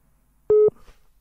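One short, loud telephone busy-signal beep sounds after the caller hangs up, steady in pitch and then cutting off abruptly.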